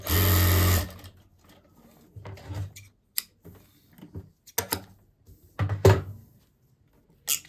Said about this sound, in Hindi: अब इस पे बिल्कुल हम एक सिलाई लगाएंगे, कच्ची सिलाई